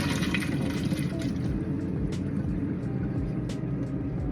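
Cooked pasta and its hot water are poured into a strainer bowl, giving a steady, continuous rush of splashing liquid with faint clinks, heard alone without talk.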